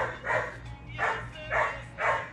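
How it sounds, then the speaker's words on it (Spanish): A dog barks four times in a steady, evenly spaced rhythm, the barks clear and fairly close in a home kitchen while pigeon stew is being prepared, over a low constant hum. "El perro no se calla."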